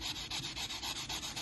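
Sandpaper is rubbed lightly over an acid-etched Damascus steel blade in quick, even back-and-forth strokes, about five per second. The scratchy rasp is close and steady, with no talking.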